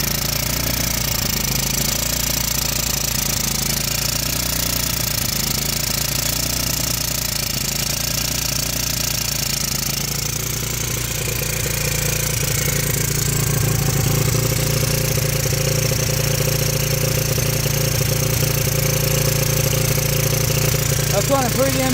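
A 1985 Yamaha Moto 4 80cc ATV engine runs continuously with a loud, rough, rattling mechanical rumble that holds steady throughout, close to the listener.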